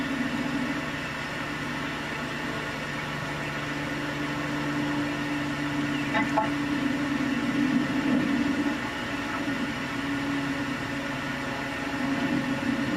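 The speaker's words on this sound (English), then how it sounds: "You got airplanes going overhead," A steady, droning hum of aircraft engines overhead, rising slightly then easing, with a constant mechanical whine throughout.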